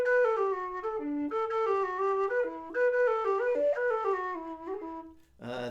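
A low D tin whistle plays a lively Irish jig melody, breathy sustained notes with quick ornamented runs, close and clear and alone, ending abruptly in a short sharp noise.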